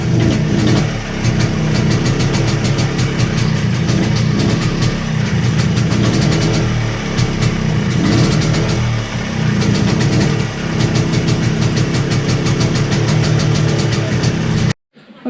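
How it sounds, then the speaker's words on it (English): An MZ TS125 two-stroke motorcycle fitted with a Mikuni carburetor runs close by, its engine revved repeatedly with the throttle cable pulled tight, a loud continuous buzzing drone that rises and dips briefly before cutting off at the very end. "It's pulling the cable tight and revving the engine."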